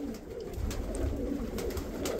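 Domestic pigeons, including mourning-type birds, coo in a low, continuous, rolling murmur nearby, with no voices.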